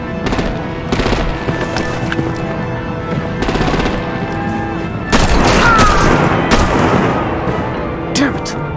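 Heavy automatic gunfire and booming artillery in a battle from the video game Batman: The Enemy Within, loud bursts of rapid fire with deep blasts and rumbling, while voices shout over the fighting.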